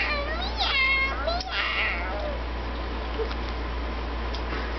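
A child imitates a cat, giving a couple of close, wavering meows over a low constant hum, then fainter sounds trailing off.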